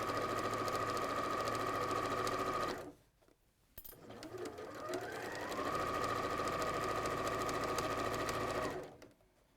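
A domestic sewing machine stitches a quarter-inch seam on fabric, guided along the edge of the presser foot. It whirs steadily and loudly, stops briefly, then starts up again and runs on before halting.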